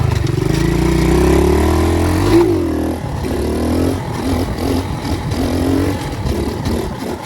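A pit bike engine roars loud and close as the rider pulls wheelies, holding a steady high rev, then dipping and climbing again through uneven throttle swells.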